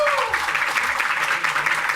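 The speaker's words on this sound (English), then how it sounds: "Give her a big round of applause." Applause from an audience at a Korean American Day event, a continuous crowd of hands clapping at moderate volume, heard together with a voice speaking over it at the start.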